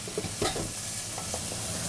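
Lardons browning in an uncovered pot for a traditional venison civet, a steady sizzle with scraping stirs and a few soft knocks, close and moderately loud, with no talk.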